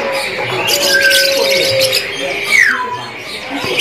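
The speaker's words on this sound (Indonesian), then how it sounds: "Penampakan dari kenari AF gacorannya" Several AF canaries chirp and trill in a busy, overlapping chorus at a bird market in Jakarta, with bright whistled notes and quick warbles rising over a steady background.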